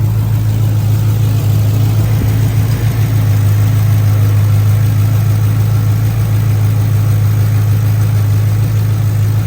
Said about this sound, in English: the AC compressor keep cutting on and off